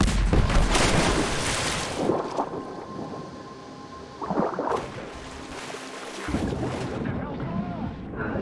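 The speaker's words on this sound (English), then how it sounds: "Grenade!" A grenade blast in Rise of the Tomb Raider lands amid heavy booming combat noise, with a loud burst at the start and further bursts near five and seven seconds, while voices call out under the din.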